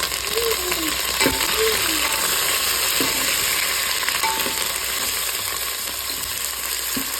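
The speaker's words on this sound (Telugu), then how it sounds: "కొంచెం ఉడికిపోతున్నాయి కదా, కొంచెం కరివేపాకు వేసుకుంటున్నా." Curry leaves crackle and sizzle steadily in hot oil in a frying pan while cooking sambar, with a few utensil clinks and scrapes over the continuous fry.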